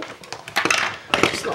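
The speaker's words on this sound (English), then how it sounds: "Oh, just knocked over all the brushes." Brushes knocked over on a craft table clatter in two bursts of light wooden and plastic rattling, close and fairly soft, with a voice speaking around them.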